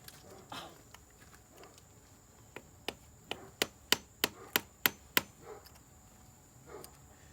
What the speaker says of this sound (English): let me get a punch and a hammer